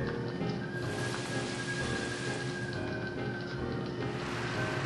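Rain Dance in Pokemon Black and White 2 brings a steady, even hiss of falling rain that fills the whole stretch at moderate level without pauses.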